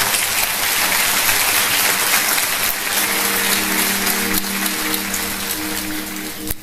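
A church congregation applauds in a sustained, dense wash of clapping that stays loud and steady throughout, with a faint musical tone rising beneath it partway through.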